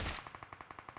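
Rapid automatic gunfire in the BGMI/PUBG mobile battle royale, about ten evenly spaced shots in a quick steady burst following a louder initial blast, close and alone with no talk.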